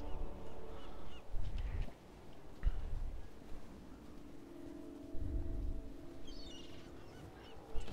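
Birds honking like geese in the video game Path of Exile, several loud honks in bursts with quieter calls and game ambience between them.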